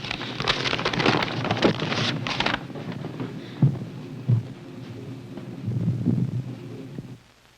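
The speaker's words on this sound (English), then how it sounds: "It's raining" Steady rain patters down, heavy at first and then easing, with a few low dull thumps that fit distant thunder.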